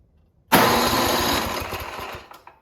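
A snow thrower engine, set off with a push-button electric starter, catches abruptly and roars loudly up close for under two seconds before tapering and sputtering out.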